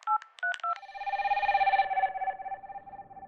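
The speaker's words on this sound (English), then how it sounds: "Angela continues to phone her mother." Telephone keypad tones beep in a quick irregular run of several digits, then a steady ringing tone pulses on, faint and alone, in a radio drama as someone calls her mother.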